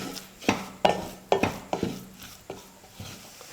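A spoon scrapes and taps against a pan as a coconut mixture for homemade chocolate sweets is stirred and sautéed over a medium flame, with a series of distinct knocks at an irregular, unhurried pace and no talking.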